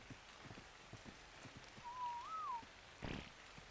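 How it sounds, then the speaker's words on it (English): Horses gallop in the video game Ark: Ragnarok Ascended. The hoofbeats are faint and distant, with a thin whistling tone drifting over them and a brief louder burst near the end. "The horses went crazy."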